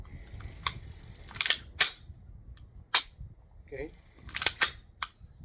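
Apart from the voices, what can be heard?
Tanfoglio FT9 pistol trigger function check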